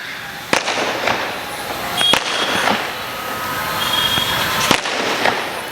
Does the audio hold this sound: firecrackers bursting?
yes